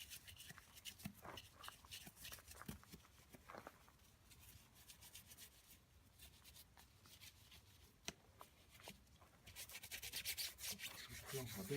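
Scrubbing an aluminium alloy wheel rim clean, a steady close rubbing and scouring that runs throughout, with irregular strokes and a brief sharp knock near the middle.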